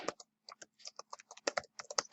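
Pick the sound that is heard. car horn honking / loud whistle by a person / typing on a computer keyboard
typing on a computer keyboard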